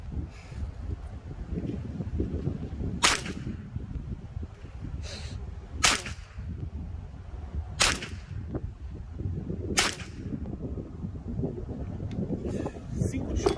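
Four sharp rifle shots ring out at spaced intervals at an outdoor shooting range, targets at 25 metres, each a crisp crack over a steady wind rumble.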